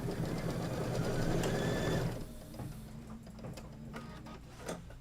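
Sewing machine stitching a quilt block, a fast steady mechanical whirr of the needle running for about two seconds, then stopping, leaving faint clicks and quiet handling.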